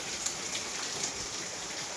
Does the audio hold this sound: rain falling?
yes